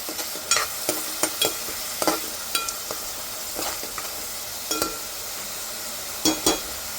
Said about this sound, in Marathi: आता आपल्याला कांदा चांगला यामध्ये परतून घ्यायचा आहे आणि आलं आणि लसूणची अशी पेस्ट घालायची आणि हे सगळं छान परतून घ्यायचं आहे